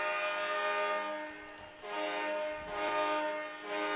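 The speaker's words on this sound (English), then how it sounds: "as we get blown halfway down the street by the air horn" A loud, sustained blaring air horn in an indoor lacrosse arena after a goal, with a harsh, buzzy tone, sounding in long blasts with brief dips between them, filling the space.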